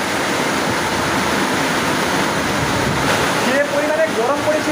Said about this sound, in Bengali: আজকে সন্ধ্যের সময় থেকে কিন্তু বৃষ্টি শুরু হয়ে গেছে